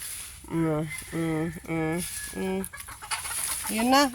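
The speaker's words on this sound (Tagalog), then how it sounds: "nagsimula na si Coco manghabol ng manok" Chickens cluck in a run of short repeated calls, fairly close, while a dog chases them, with a brief voice and some rustling near the end.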